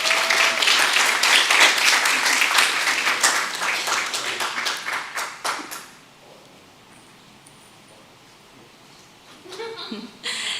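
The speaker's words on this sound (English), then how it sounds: "Let's give him a big round of applause." Audience applause fills a school board of trustees meeting, a dense patter of clapping for about six seconds that thins out and fades, leaving a quiet room with a few faint bumps near the end.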